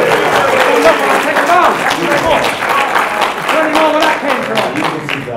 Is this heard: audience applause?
yes